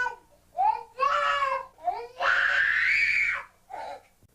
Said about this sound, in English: It's just unrelenting screaming.